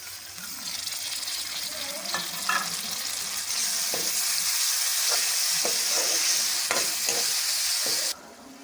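Onion, ginger-garlic paste and tomatoes fry steadily in a pan for a white chickpea curry, giving a continuous close sizzle with scattered stirring scrapes and clicks. It ends abruptly as the sizzle drops.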